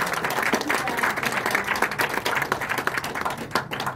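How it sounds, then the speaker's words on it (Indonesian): An audience in a lecture hall gives a warm round of applause for Dr. Imtiaz, with lively, uneven clapping throughout and some voices mixed in. "Terima kasih lagi, tepukan dulu kepada Dr."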